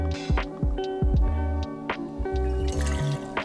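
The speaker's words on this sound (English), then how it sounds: "I'm gonna follow that up with 2 ounces of White Rum" White rum, two ounces, pours into a cocktail shaker up close, making a gurgling, glugging stream of liquid with uneven bubbling pulses and small drips throughout.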